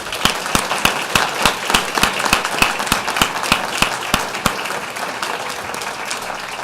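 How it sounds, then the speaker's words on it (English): Audience applause for a middle school choir at a school board meeting, a modest crowd clapping with distinct individual claps standing out near the microphone, fading slightly toward the end. "Let's just give them another round of applause."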